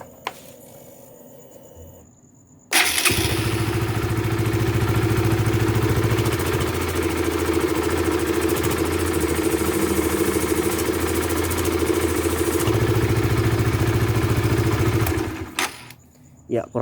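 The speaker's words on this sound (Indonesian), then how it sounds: "suara mesin sebelum suara knalpot sebelum diganti ya." A Honda Supra GTR motorcycle with its stock exhaust cranks and starts, then settles into a steady, smooth idle close by for about twelve seconds before being shut off, with faint background noise before and after.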